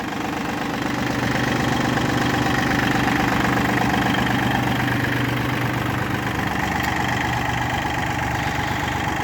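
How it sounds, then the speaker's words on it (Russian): An ISEKI mini tractor's engine runs steadily at close range, a loud continuous knocking diesel idle with a low rumble, while its hydraulics work to lift the machine on its bucket. "Гидравлика живая, трактор отжимается на ковше."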